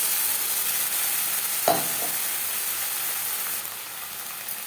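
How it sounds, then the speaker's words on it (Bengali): Onions frying with ginger paste, green chili paste and a tomato and red chili paste for a Bengali fish curry, a steady close sizzle with a couple of soft spoon scrapes as the mixture is stirred. "পেঁয়াজের সাথে মশলা বেশ ভালো করে মিক্স করে দেবো।"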